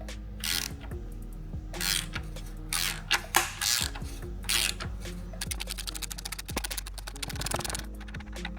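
A ratchet clicks in quick bursts while loosening the oil pan bolt on a Honda Civic in a garage, close and fairly clear, with brief pauses and a low steady hum underneath.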